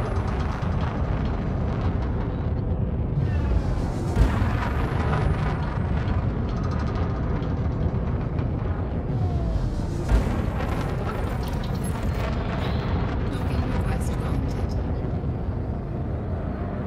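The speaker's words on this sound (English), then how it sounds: "Boost. Afterburner initialized." Spaceship afterburner boost in Elite Dangerous during planetary ring mining: a dense, roaring thrust rumble that stays loud and steady throughout, with swelling surges and whooshing layers.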